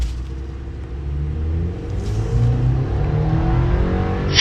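A GMC Sierra pickup with an inline-four Turbomax engine, an 8-speed transmission and 3.42 axle ratio accelerates hard from a standstill. The loud engine note climbs steadily in pitch through rising and resetting gear sweeps, heard from inside the cab.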